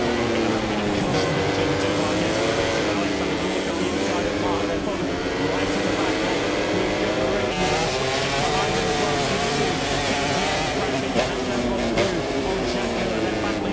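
MotoGP racing motorcycles at the Mugello Italian Grand Prix, a continuous high-pitched engine roar with rising and falling revs as bikes pass, heard under steady race commentary.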